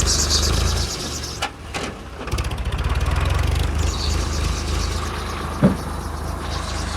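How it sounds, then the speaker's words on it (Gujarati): A tractor engine runs steadily while unloading green fodder at a cattle shelter, a loud continuous low rumble with faint background voices and one brief knock near the end. "નાખ્યું આપણે એક ટ્રેક્ટર અહીંયા ખાલી થાય"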